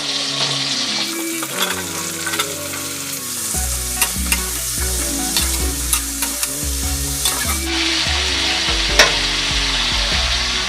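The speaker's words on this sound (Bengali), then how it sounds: "এরপর আমি এই হালকা ভাজাতেই সবজিগুলো দিয়ে দেবো" Vegetables stirred into lightly fried onions in fish oil for a spinach dish, a loud, steady sizzle filling the whole stretch with repeated scraping and clattering from stirring, close up and without voices.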